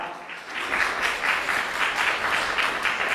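Warm, dense applause from the audience fills a children's choir festival hall, a steady sustained clapping from many hands with no voices over it.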